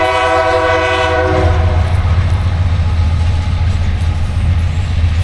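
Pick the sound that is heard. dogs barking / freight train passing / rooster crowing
freight train passing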